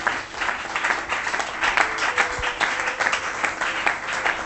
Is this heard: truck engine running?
no